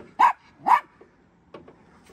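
A dog lets out two sharp, close barks in quick succession, followed by a couple of softer, shorter yips, inside a garage or driveway where a Honda Element's doors are being worked on.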